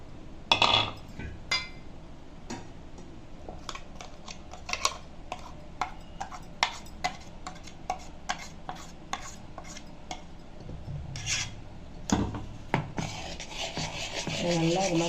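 Rava appam batter stirred into white sugar syrup in a bowl, a steady run of scraping, rubbing strokes with light clinks, close and fairly quiet, with no talking.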